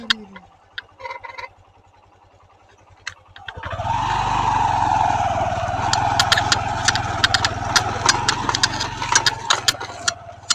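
A vehicle engine starts partway through after a quiet stretch, then idles and runs steadily and loudly, with sharp ticks over the drone, on an off-road hill road.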